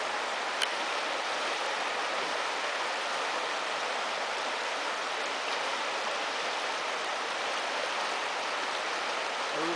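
The Russian River flowing, a steady, even broadband rush of water that continues unbroken and fairly soft throughout.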